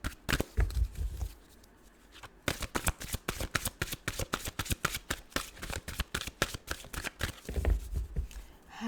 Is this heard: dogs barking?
no